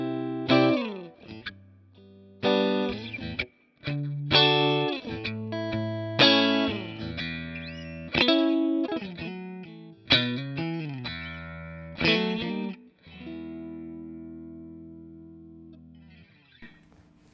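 An electric guitar played through a Two Rock TS1 amp set for its cleanest tone rings out in chords and single notes, phrases separated by short pauses and ending on a long sustained fade.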